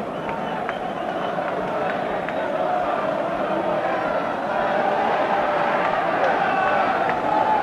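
A large football crowd at an 1980s Oxford United cup tie keeps up a steady, dense roar and chatter after a headed equaliser, broad and continuous throughout with no single voice standing out.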